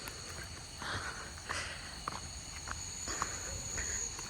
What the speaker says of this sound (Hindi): टिड्डों की आवाज़ आती हुई